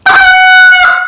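A goose call blown as a pleading comeback call, one loud elongated honking note held for about a second, strongly tonal and close, alone with no talk.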